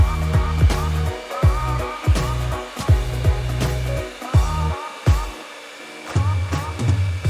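A hair dryer blows on hair being styled around the crown, roaring loud and close in uneven bursts as the airflow shifts and cuts in and out against the hair, with a thin steady whine running beneath.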